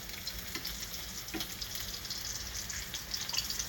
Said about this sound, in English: This fish is frying up here.